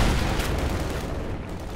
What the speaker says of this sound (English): Mine going off here, taking out half the pioneer squad in a not very festive explosion.